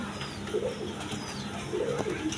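A breeding pair of fancy pigeons gives two soft, close coos, spaced apart over a constant low background hum.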